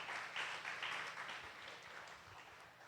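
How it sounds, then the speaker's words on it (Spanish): A church congregation applauds during a service, a steady, faint wash of many hands clapping heard from a distance for the whole stretch. "Dele ese fuerte aplauso a Jesús"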